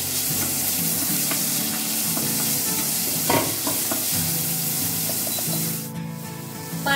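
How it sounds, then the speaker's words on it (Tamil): Onions frying in a pan, a loud continuous hissing sizzle with occasional scrapes of stirring, close up, easing slightly near the end. "வெங்காயம் கொஞ்சம் நல்லா ஃப்ரை ஆகட்டும்"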